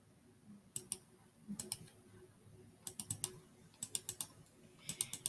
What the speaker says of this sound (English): I'm going to click off the canvas again and choose another color